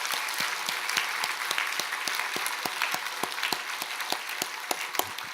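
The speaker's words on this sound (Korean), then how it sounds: "우리 그분들을 위해서 한번 격려의 박수 부탁합니다" A church congregation claps steadily at a New Year's Eve service, honouring worshippers seated on other floors; dense, sustained applause fills the room with a few sharper claps standing out and no talking over it.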